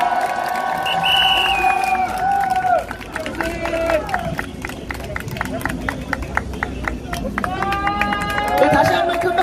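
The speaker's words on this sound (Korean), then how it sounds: "다시 한번 큰 박수 보내주십시오" Crowd at an outdoor welcome rally for released university students, clapping and cheering loudly and continuously, with a voice over a loudspeaker.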